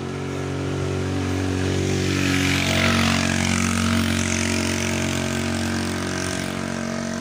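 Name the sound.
motorcycle engine straining uphill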